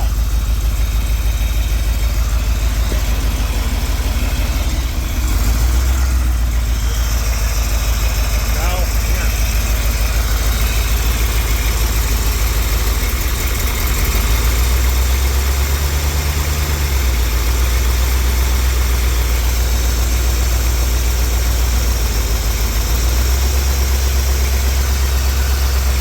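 A 388 stroker V8 in a solid-axle-swapped S10 Blazer idles with a steady, loud low rumble throughout, swelling briefly in places, while people talk nearby.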